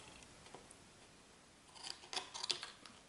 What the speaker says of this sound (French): Là cette fois-ci je coupe les petits coins